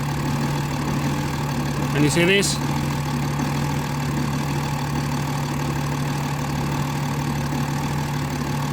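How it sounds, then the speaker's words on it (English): A BMW E90 330d diesel engine idling roughly after a cold start, giving a steady low rumble throughout with a brief spoken question over it. "And as you can see, the engine starts to go a little bit."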